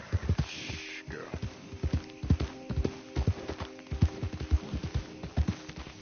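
Horse hooves clip-clop in a steady trotting rhythm throughout in Red Dead Redemption 2, with a low hum and occasional game sound effects behind them.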